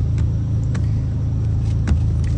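Steady road traffic heard from inside or beside a car, a continuous low rumbling engine and tyre drone with faint passing whooshes, loud and close, no talking.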